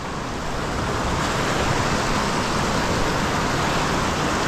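Steady, dense rush of the Big Thompson River in Estes Park, Colorado, roaring without a break, loud and close, as it pours over a waterfall.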